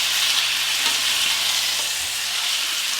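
A roast sears in a pan with a loud, continuous, close hiss of sizzling fat that stays even throughout, with no talk.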